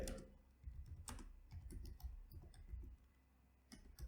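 Quick, light typing on a computer keyboard while entering a question into ChatGPT, with irregular clicking keystrokes heard close and fairly faint, without speech.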